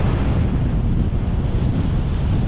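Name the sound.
strong headwind blowing on the microphone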